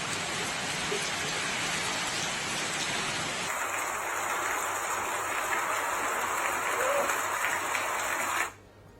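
Steady heavy rain pours down with strong wind during an unseasonal storm, a dense continuous hiss that holds for about eight seconds and then cuts off abruptly; no clear thunder stands out.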